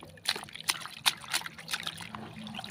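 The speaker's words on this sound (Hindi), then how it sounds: "अब मैंने इसको दोबारा से टब में डालना है, टब वाले पानी में, ताकि अच्छे से साफ़ हो जाए" An item is being rinsed in a tub of water to wash off dust, with several distinct sloshing splashes and trickles at irregular intervals over a quiet background.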